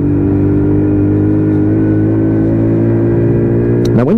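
A WK Colt 50cc geared motorbike engine drones steadily and loudly up close on a test ride, its pitch climbing slightly as it pulls through the gears, with a quick rise in revs near the end.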